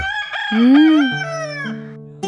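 A native country rooster, a village chicken bought for the pot, gives one loud, close crow that rises, holds and trails off over about two seconds, heard alone.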